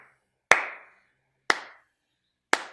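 Three loud, sharp claps ring out about a second apart, each one isolated with a short decaying tail and silence in between.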